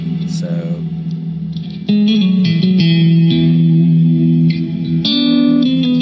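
An electric guitar plays sustained chords drenched in shimmering octave-shifted reverb, notes blooming and overlapping into a wash of sound.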